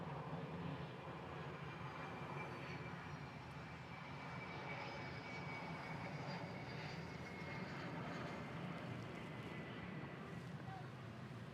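A Hawaiian Airlines plane arriving from Hilo at Honolulu airport gives a steady, distant jet roar that holds evenly throughout, with faint broadband rumble and no break.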